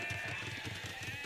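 Sheep bleating in the Age of Empires II video game: a brief, quiet clip with repeated short bleats over steady in-game ambience.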